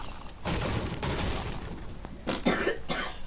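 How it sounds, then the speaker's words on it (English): A person coughs close to the microphone in a couple of rough, noisy bursts, during a duo squad shooter game session, with no speech over the coughing. "You coughed in my face."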